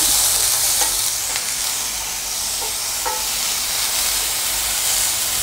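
Capsicum sautéing in a pan for chilli chicken over low heat, a loud steady hiss of frying with a few faint stirring taps throughout.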